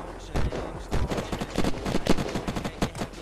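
Rapid gunfire in Unturned during a raid on a sky base, bursts of sharp shots cracking in quick irregular succession, loud and close throughout.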